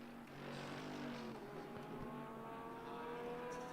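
Porsche race car engine at the Mount Panorama circuit, a distant sustained drone with shifting pitch as cars circulate, heard faintly with no talk over it.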